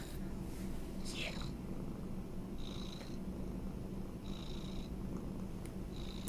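A small house cat purrs softly and steadily close by, a low continuous rumble with a few faint higher whispery sounds over it.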